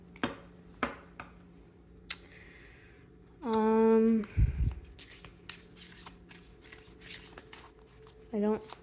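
Tarot cards being shuffled in quick riffling bursts, close and crisp, with a short stretch of talk in the middle and another brief voice near the end.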